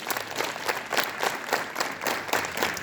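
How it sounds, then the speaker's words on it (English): Students at a school assembly clap their hands together in rough unison, a series of sharp crowd claps landing about every half second, with a roomy echo. "clap your hands."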